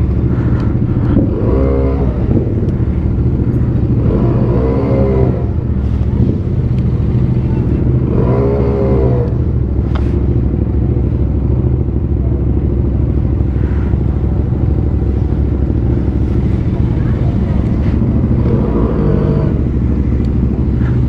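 Two motorcycles idle and set off together with a steady, loud engine rumble that runs the whole time and swells now and then as they rev. Voices talk at intervals above the engines.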